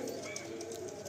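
Male Madrasi or Giribaj pigeon cooing close by, a low steady throaty murmur that runs without a break through the whole moment.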